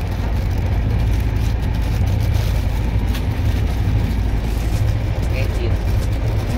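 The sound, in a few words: moving train interior, 12246 SMVT Duronto Express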